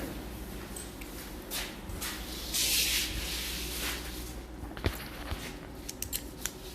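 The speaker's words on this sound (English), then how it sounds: "And we're going to do a test spray." A short hiss of a spray gun test-spraying primer in a spray booth bursts out over steady background noise, followed by a few faint clicks and taps.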